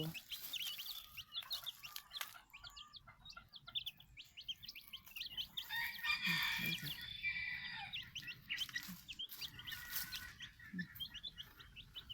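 Silkie chickens cluck and chirp nearby, with high peeping chicks and soft clucks in an irregular stream, and a person talks quietly at times.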